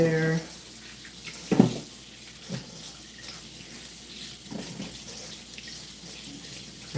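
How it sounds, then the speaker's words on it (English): Tap water runs steadily into a kitchen sink while celery is washed, a continuous splashing stream with a few clunks and handling sounds, and a voice talks briefly. "Now I can wash my celery."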